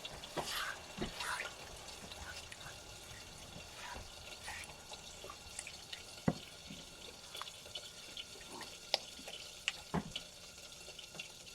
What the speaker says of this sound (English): Alright, let's add our broth.